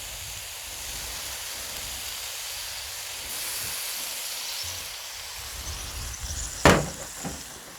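Oyster sauce poured into a hot pork stir fry in a pan: a steady soft hiss, then one sudden loud sizzling burst that quickly fades back down.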